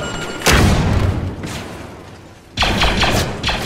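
Two heavy, booming grenade explosions in Star Wars Battlefront 2, one early and a second louder blast near the end followed by a rattle of debris or shots, with a quiet lull between them.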